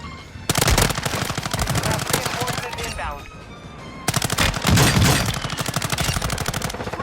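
Sustained automatic fire from an M13B rifle in Warzone 2 rattles in two long bursts of rapid, evenly spaced shots, loud and close, separated by a short lull with a voice speaking underneath.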